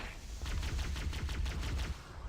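A plasma grenade goes off in Halo CE, followed by a rapid crackling burst of repeated pops, loud and close with no talking.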